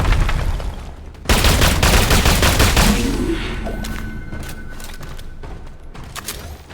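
Dense, loud automatic gunfire from the video game Sulfur rips through the first few seconds, a rapid burst of shots that then tails off into quieter game ambience and scattered clicks.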